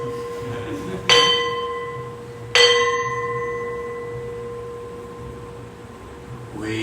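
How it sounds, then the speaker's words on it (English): Two clear bell strikes ring out a second or so apart, each leaving a long, fading metallic tone that lingers under the room's quiet background. "There's the bell."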